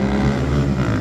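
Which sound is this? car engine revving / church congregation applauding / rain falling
car engine revving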